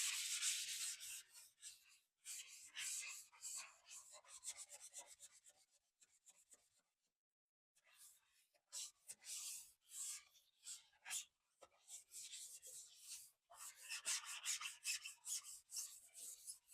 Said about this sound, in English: now we're gonna be sanding it down so it can be nice and smooth with the frame of the door